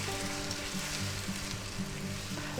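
Peppers frying in a pan over medium heat, giving a dense, even sizzle with faint crackles, close and steady over a short stretch without speech.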